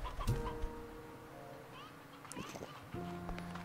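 Chickens and roosters cluck and squawk in the video game Slime Rancher 2, several short overlapping clucks and calls against a steady game background hum.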